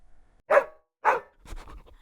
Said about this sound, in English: Sunny barks once finally.